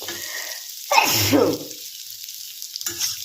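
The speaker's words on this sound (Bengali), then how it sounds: "একটু কালো জিরে ফোড়ন দিয়ে আর একটু গোলমরিচ গুঁড়ো নুন দিয়ে নাড়াচাড়া করে নিলাম" Potatoes fried in oil with a black cumin tempering, pepper and salt, giving a loud close burst of sizzling as they are stirred, fading out and then returning briefly.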